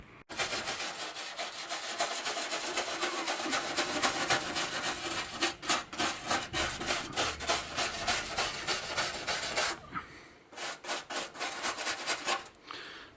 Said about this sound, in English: just a little bit of a wire brush and a buff